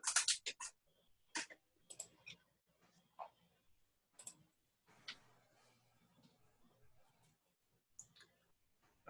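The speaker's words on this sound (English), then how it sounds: "I'm clicking around here." Sharp computer mouse clicks, scattered and irregular, come close and fairly loud at a home-office desk, with quiet background sounds between them.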